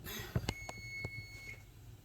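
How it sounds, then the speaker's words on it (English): A steady, thin high-pitched electronic tone runs through, with a few sharp clicks and knocks near the start; quiet overall. "Let's end this so we don't hear that beeping noise."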